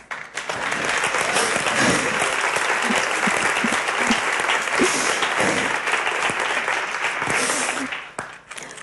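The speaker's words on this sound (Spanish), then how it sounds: "se merece un aplauso" An audience at a photography lecture breaks into sustained applause, dense clapping from many hands that holds steady for several seconds in a hall before tapering off near the end.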